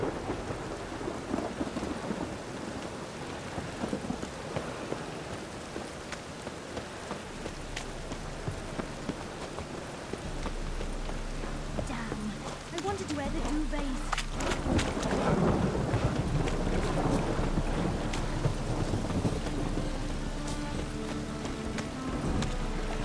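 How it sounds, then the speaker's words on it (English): Steady rain with rolling thunder in The Witcher 3: Wild Hunt, a continuous downpour with low rumbles building and swelling in the second half, loud and close throughout. "Rain, I like rain."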